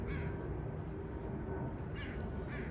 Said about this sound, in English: Our Cancer crows are speaking.